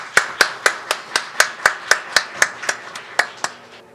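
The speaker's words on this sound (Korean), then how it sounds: "우리 축복의 박수 하도록 하겠습니다." Church congregation applause in unison, about fifteen sharp, evenly spaced claps in a steady rhythm, loud and close with no talking.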